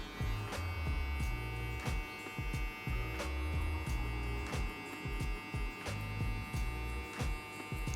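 An electric hair clipper buzzing steadily as it cuts a faded mohawk, with a close, continuous motor drone and short rhythmic strokes over the hair and no talking.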